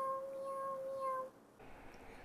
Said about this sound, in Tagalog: Ako ay si Kuting. Kuting na malambing, matimik sa daga, matalinong pusa